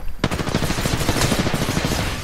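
Loud rapid automatic gunfire from the video game Apex Legends: after a brief quiet start, a dense, steady burst of shots runs for about two seconds, close and full.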